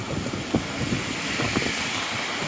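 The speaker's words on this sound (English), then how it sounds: "It is really, really, really windy out here." Strong gusty wind blasts across the microphone while walking downtown in heavy rain, a steady close-up roar with no pauses.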